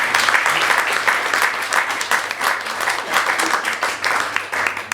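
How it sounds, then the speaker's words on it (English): An audience at a speaker event applauds warmly, with dense, steady clapping that stays loud and close throughout. "Can we just have a round of applause?"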